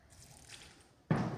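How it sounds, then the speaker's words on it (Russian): Water poured onto shredded paper crumbs, a soft trickle followed by a sudden louder splash and pour near the end. "Далее добавляем немножко воды"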